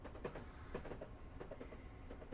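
A Class 377 electric train in Train Simulator 2018, a short three-car set, runs near 70 miles an hour with a steady low rumble and irregular clickety-clack beats from the wheels on rail joints, faint and continuous.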